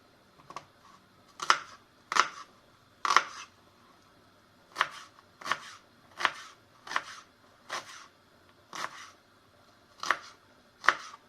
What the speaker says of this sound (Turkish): Başlıyorum doğramaya.